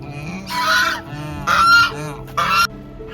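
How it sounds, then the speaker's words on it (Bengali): Geese honk three times in loud, separate calls spaced about a second apart, close by at a riverside resort in Bhitarkanika. "এখানে কিছু হাঁস আছে।"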